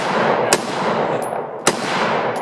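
Two sharp gunshots ring out about a second apart over steady outdoor background noise, fired at an outdoor shooting session with drift trikes and firearms.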